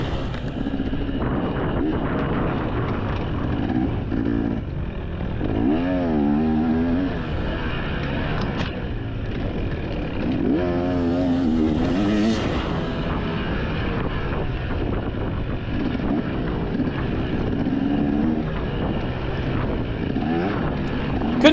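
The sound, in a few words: motorcycle accelerating during a scramble race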